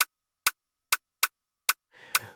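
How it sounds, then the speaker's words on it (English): Thin hi-hat ticks follow an Afro bounce drum pattern, five or six crisp dry hits spaced unevenly, fairly quiet and alone, with a brief wash of noise near the end. "Then we have a hat just playing the same thing."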